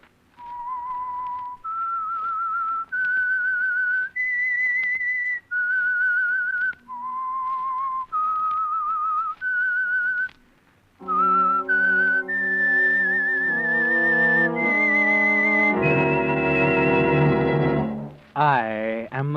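A solo whistled theme of long held notes in a slow, eerie tune, opening an old radio drama, joined partway by orchestral music that swells beneath it.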